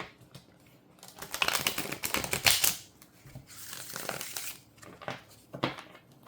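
Two bursts of rapid riffling as a Monopoly-based deck of cards is shuffled close up, followed by a few softer taps and shuffles.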